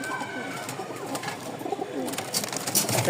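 Lahori and Jacobin pigeons coo softly in a steady, low murmur, with shuffling and rustling around them at a pigeon sale in Mirpur, Dhaka.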